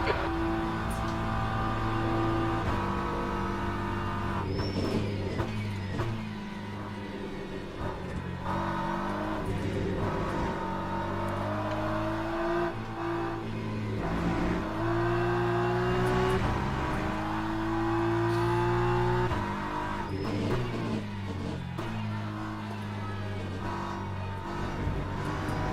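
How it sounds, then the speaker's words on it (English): A hypercar races past at speed during a racing shakedown, its engine a loud, sustained roar with pitch rising and falling as it accelerates and shifts, dominating throughout. "Got another hypercar coming flying"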